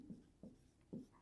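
Numbers being written by hand while working a math problem, three short, soft pen-on-paper scratches spaced evenly in a quiet room.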